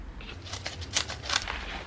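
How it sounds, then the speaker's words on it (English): Package being cut open during an unboxing, a short run of crisp, scratchy slicing strokes close by, a few louder bursts in the middle, with no one talking. "let's cut this up"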